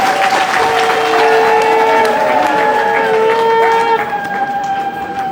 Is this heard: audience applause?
yes